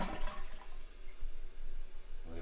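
A household toilet flushes after a new wax ring is fitted, a loud close rush of water at the start settling into a steady swirling drain and refill that continues to the end, with no talk.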